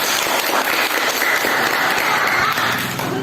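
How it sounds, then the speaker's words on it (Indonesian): Applause from a classroom of accounting students, with dense, steady clapping that fills the whole stretch at close range and tapers slightly near the end. "tepuk tangan untuk kita semua"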